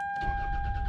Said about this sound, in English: And when I turn the car on,